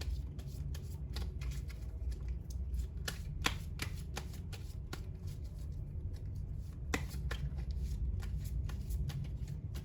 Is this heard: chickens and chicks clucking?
no